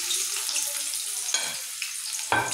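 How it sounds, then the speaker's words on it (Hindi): Finely chopped medium onion frying in oil in a pan over low heat, a steady close sizzle with a few louder stirring scrapes and bursts. "इसको फ्राई करती हूँ।"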